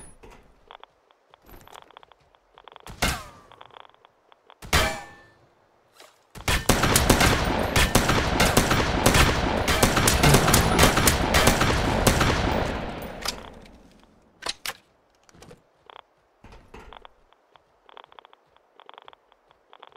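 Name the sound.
turret gunfire in Dysterra video game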